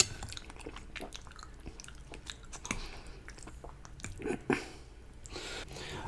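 Close, quiet chewing of chili cheese fries topped with bacon bits, with soft wet bites and squishes repeating at an irregular pace and a few louder crunchy moments.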